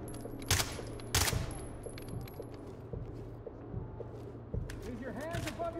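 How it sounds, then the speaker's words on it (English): Gunfire in the tactical shooter Ready or Not, with a couple of sharp, loud shots cracking early on and fainter scattered reports afterward, heard under someone talking over a steady background hum. "This little man is shooting at me again."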